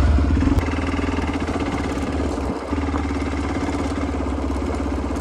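Off-road motorcycle engine idling in a steady, close, loud chug by a riverside, holding an even drone with a brief dip midway.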